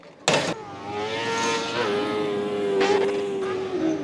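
A four-cylinder Yamaha R6 engine in a Kart Cross buggy at an autocross arena shrieks loudly and close, with a sharp burst at the start, then a sustained high-pitched howl that rises and falls as the throttle varies.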